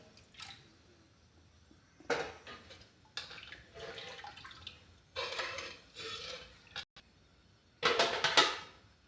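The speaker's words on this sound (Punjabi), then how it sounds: "ਗ੍ਰੇਵੀ 'ਚ ਆਪਾਂ ਪਾਣੀ ਥੋੜਾ ਜਿਹਾ ਜੀ ਐਡ ਕਰ ਦਾਂਗੇ" Several short bursts of water being poured into gravy, sloshing and splashing, separated by pauses, close and moderately loud, with no talking.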